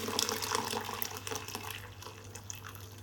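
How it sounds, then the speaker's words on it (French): Freshly boiled water poured into a pot over small Algerian 3aich pasta to soak, a steady close splashing pour lasting about three seconds. "Je vais le couvrir d'eau."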